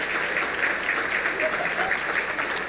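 Audience applause at a charity gala celebration: steady, sustained clapping from a large crowd, fairly close and even in level with no pauses.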